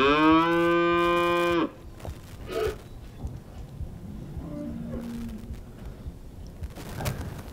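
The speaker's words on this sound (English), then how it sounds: "them cows came rushing up, smelling of it, licking it." A cow gives one loud, close, drawn-out moo at the start, followed by quieter rustling and faint lowing from the herd gathered near a freshly gutted deer in a field.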